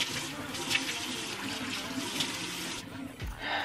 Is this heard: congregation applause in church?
no